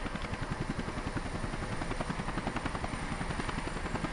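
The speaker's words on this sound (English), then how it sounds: "Chinook's really hovering quite low there." A Chinook helicopter hovering low in the video game Air Conflicts Vietnam, its rotor thudding in a fast, even pulse over a dense engine roar, loud and continuous with no voices.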